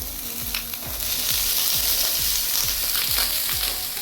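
Onion, garlic, sliced potatoes and green chillies fry in hot oil in a pan, a continuous loud sizzle broken by rhythmic scraping stirs about twice a second, no voices.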